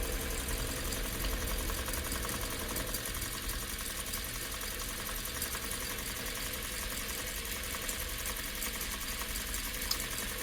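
American Flyer S scale 0-6-0 model steam engine running at low throttle, a steady close mechanical whir and hum with a faint rhythmic chatter, constant in level throughout with no voices.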